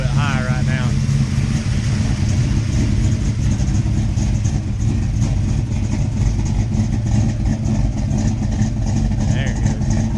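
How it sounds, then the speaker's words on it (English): A warming classic car engine idles slightly high, a steady low rumble holding constant throughout at close range, with a brief higher whine near the start and no speech. "It's idling a little bit high right now."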